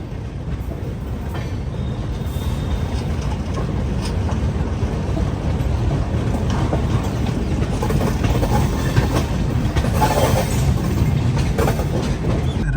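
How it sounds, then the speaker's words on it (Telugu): The GT Express rolls out of Agra Cantt platform 1, a steady loud rumble of wheels on rail with rhythmic clickety-clack that grows slightly heavier as the train gathers speed; no voices. "ఆగ్రా ప్లాట్ఫామ్ నెంబర్ 1 నుంచి మన ట్రైన్ అయితే బయలుదేరిపోయింది"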